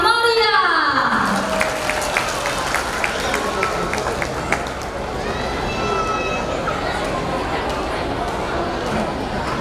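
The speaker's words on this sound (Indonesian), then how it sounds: "Beri tepuk tangan yang meriah." Applause and crowd chatter at a kindergarten graduation and farewell ceremony in Batam, starting after an announcer's voice and continuing as a dense, steady wash of clapping with children's voices mixed in.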